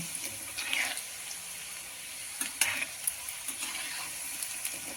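Seedai, small rice flour balls, frying in oil in a small kadai, a faint steady sizzle with light crackles and pops scattered throughout.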